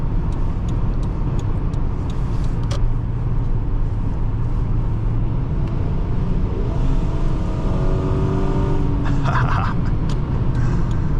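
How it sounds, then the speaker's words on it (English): A 1999 Toyota Camry LE V6 cruises at freeway speed, its engine a steady low drone blended with road and wind noise, holding constant loudness with no pauses or talk. "Oh, I love the sound of this V6."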